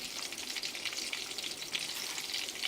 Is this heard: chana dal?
yes